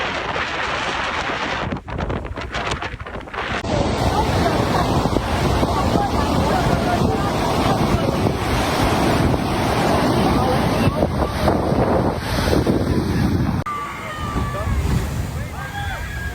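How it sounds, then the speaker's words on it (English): Ocean waves crash against the California coast in a constant heavy roar of surf, with strong wind buffeting the microphone throughout and the surge easing a little near the end. "The ocean is not calm. Waves crash harder than ever"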